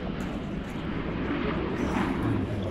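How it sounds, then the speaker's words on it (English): A jet plane passes over a lake near a rocket launch site, a broad, steady roar that swells slightly toward the end, heard from a distance without speech. "There's a plane over the lake."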